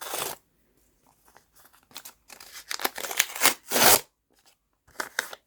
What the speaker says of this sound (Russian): И сейчас мы распакуем пакетики.